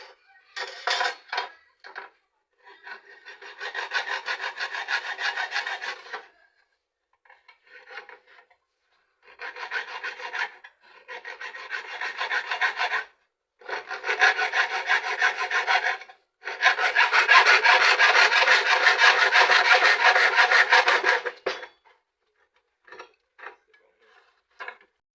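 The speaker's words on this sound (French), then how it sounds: "on va mettre notre rail. Comme j'ai déjà tracé là, on va juste couper" A metal mounting rail being sawn by hand for an electrical cabinet build, with rough rasping strokes in repeated bursts of several seconds, separated by short pauses and a few clicks, close and fairly loud.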